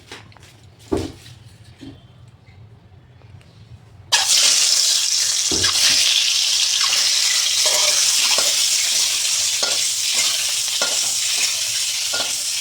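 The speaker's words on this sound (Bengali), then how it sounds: "ডিমটা আমি প্রথমে দিয়ে একটু কড়াইতে ভেজে নিলাম" Eggs coated in turmeric and salt drop into a hot wok after a few quiet knocks, bursting into loud, continuous sizzling frying close by, with occasional clinks of stirring.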